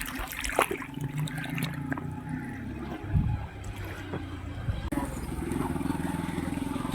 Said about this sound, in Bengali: দেখো কিরকম ঢেউ দিচ্ছে।